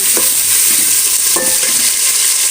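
Onion and tomato fry in a pot for Peshawari pulao, a steady loud sizzle throughout with two or three brief scraping stirs of a spoon against the pot, no voices.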